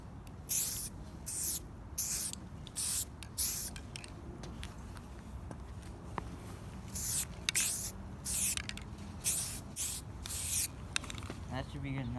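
Spray paint is applied as a first coat on a Revell 1:48 F4U-4 Corsair model, heard as short repeated hissing bursts with quiet gaps between, close and fairly soft.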